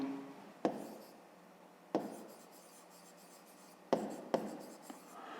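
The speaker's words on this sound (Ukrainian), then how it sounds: "Записуємо." Pen writing on paper while solving a fifth-grade math exercise, quiet scratchy strokes broken by several sharp taps as the pen lands on the page, with no talk.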